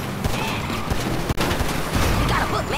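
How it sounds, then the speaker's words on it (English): Several gunshots crack out in a quick burst during a tense car chase, close and sharp, mixed with engine rumble and other noise. "Shoot that gun, kid."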